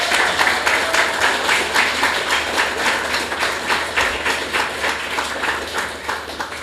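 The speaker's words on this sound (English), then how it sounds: "Please give him a round of applause." Audience applause at a literary event, a dense steady wash of many hands clapping that continues evenly throughout without any speech.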